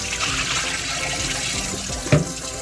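Oxtails being rinsed by hand in a bowl under running water, a steady close splashing wash with one brief louder slosh near the end.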